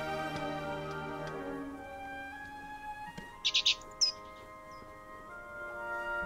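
A pet bird in a cage in The Book of Unwritten Tales 2 gives a few quick high chirps midway, a short cluster then one more, faint against soft sustained game music.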